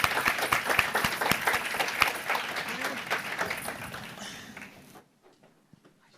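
A summit audience applauds panelists with dense, steady clapping that runs loud for several seconds, then fades and stops, leaving near silence at the end.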